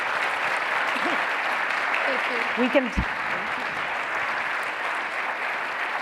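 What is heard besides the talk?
audience applause for women leaders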